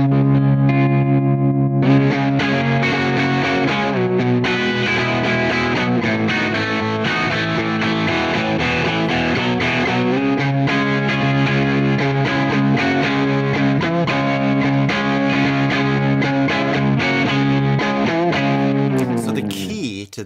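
A loud, distorted electric guitar, turned up high and picked softly, plays continuous chords and riffs with a thick effected tone, sustained throughout and ending abruptly.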